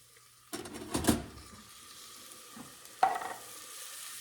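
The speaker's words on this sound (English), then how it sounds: "Now we're going to add the tomato sauce." Chili cooking in a pot after tomato sauce is added: a few soft stirring scrapes and a gentle sizzle, with short bursts of spoon contact separated by quiet simmering.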